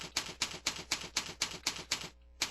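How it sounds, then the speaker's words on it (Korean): Arrow keys on a computer keyboard are pressed repeatedly in an even rhythm, about nine sharp clicks in quick succession, then a short pause and one more, close and fairly quiet. "키보드 자판에서 아랫방향 키를 눌러서 아래로 내려줍니다."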